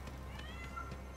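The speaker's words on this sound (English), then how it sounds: "can you hear my cat?" A faint, thin meow from a house cat rises briefly above a steady background hum and game audio from Age of Wonders 4, soft and somewhat distant.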